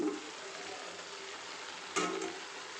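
Raw potatoes and onions hit a pan of already-browned meat, giving a steady close sizzle with a brief louder burst near the end as the pan is stirred.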